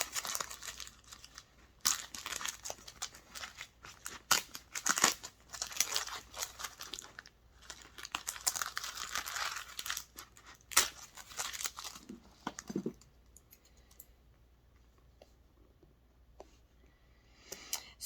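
Wash-away embroidery stabilizer is torn and peeled from a stitched piece in bursts of crinkly ripping and rustling close by, then fades into softer, sparser crackles. No one speaks.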